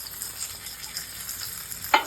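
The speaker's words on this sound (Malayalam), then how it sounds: "അങ്ങനെ ഇതാ നമ്മുടെ ലാസ്റ്റ് സ്റ്റെപ്പായ കടുക് വറ നമ്മൾ ഇതിക്കിടാൻ പോവാണ്." Mustard seed tempering sizzling in hot oil for a mango pulissery, a steady close crackling hiss with a brief louder spatter near the end.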